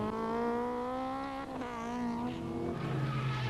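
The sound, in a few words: racing car tyres squealing during a spin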